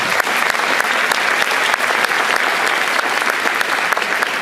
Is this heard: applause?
yes